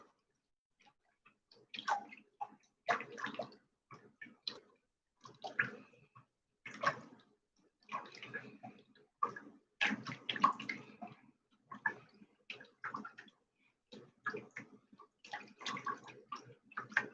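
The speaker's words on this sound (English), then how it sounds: "Let's stir it some more." A liquid mixture is stirred in a kitchen science experiment, giving repeated short bursts of sloshing and clinking that come in uneven strokes with brief quiet gaps.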